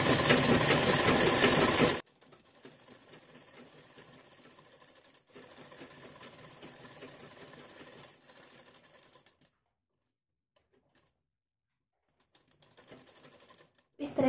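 A sewing machine stitches a blouse collar in a loud, dense whir for about two seconds, then drops to a faint, intermittent hum with quiet gaps.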